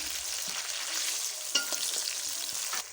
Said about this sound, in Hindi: अभी मैं इसमें साथ ही डाल दूँगी टमाटर और हरी मिर्चें और इसको कर दूँगी मिक्स